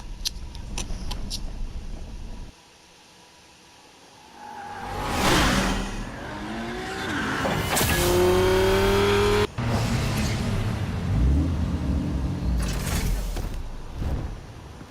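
A car in the Batman Telltale game roars and whooshes past in a chase, with surging engine noise, a drawn-out tire squeal, a sharp impact and more rushing passes, all loud and close with no talk.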